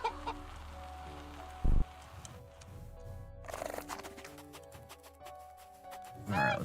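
Chicken clucking in the video game Back to Blossom, soft short clucks over quiet game ambience, with a few brief thuds and tonal chimes, no talking.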